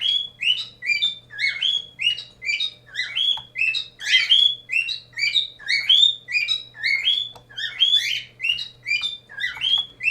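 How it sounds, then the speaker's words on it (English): Bird chirps and tweets run in a rapid, continuous series of bright calls over a faint steady hum, with no talking. "stupid bird."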